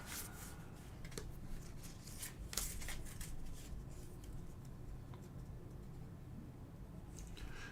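Hero cards from the Spire's End board game are shuffled up close, giving a quiet run of soft riffling and tapping with a few sharper card snaps, alone and without talk.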